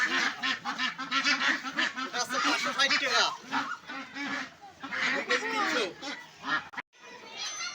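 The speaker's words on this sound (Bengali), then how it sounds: "কি খামারের হাঁস?" Farm ducks quack and honk in a dense, near chorus at a market, with people talking among the birds.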